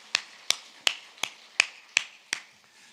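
Seven sharp, evenly spaced claps from a church congregation during a Sunday worship service, crisp and moderately quiet with short pauses between each beat.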